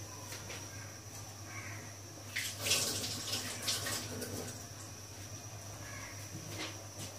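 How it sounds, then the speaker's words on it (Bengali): Tap water running while hands are washed in a kitchen, a soft, steady splashing stream with brief louder splashes midway, faint and continuous with no talking. "হাতটা একটু ধুয়ে নিই ভালো করে।"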